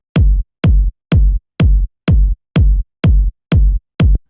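Two layered techno kick drums, a punchy top layer over a deep body layer, strike together nine times in a steady four-on-the-floor pulse, each hit a loud, heavy thud with a crisp click and brief decay.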